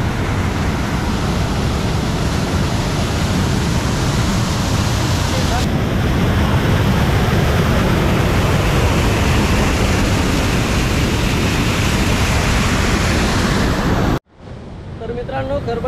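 Loud, steady roar of rushing water at Kharpadi waterfall, close and unbroken for about fourteen seconds before cutting off abruptly, followed by a brief voice under quieter water at the very end.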